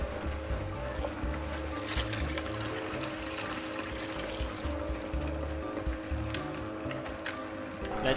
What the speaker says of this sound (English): Now you are flushing the vinegar into the heater to descaling.